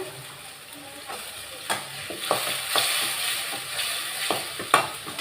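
Onions fry in hot oil in a home kitchen for vegetable fried rice, with a steady crackling sizzle broken by the clacks and scrapes of a spoon stirring the pan.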